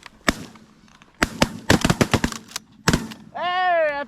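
Shotgun blasts during an early-season goose hunt: a single shot, then a rapid cluster of several sharp reports, then another shot, followed by a loud goose honk or call at the end.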